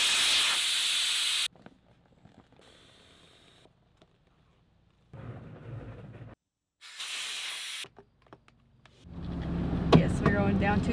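Lubricant sprays onto the legs of an RV awning in short, close hissing bursts, with quiet pauses and rustling between them and some nearby handling noise toward the end.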